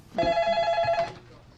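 A telephone rings once at a dispatcher's desk, a single clear electronic ring lasting about a second, close and loud.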